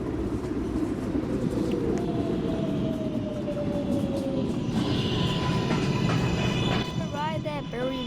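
A New York City subway train rumbles steadily on the Manhattan-bound 1 line, a loud continuous roar with squealing wheel tones and whining motor pitches rising and falling, heard from inside the moving car.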